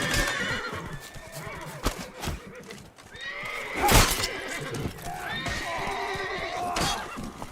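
In The Witcher 3 video game, a horse whinnies loudly with shrill, wavering neighs and snorts, hooves clip-clopping beneath, mixed with game sound effects and a brief burst near the middle.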